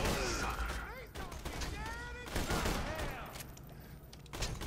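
Gunfire rattles in Borderlands 2, a fast fusillade of shots repeating in bursts amid robotic whines and shrill tonal sweeps, with a voice talking faintly beneath.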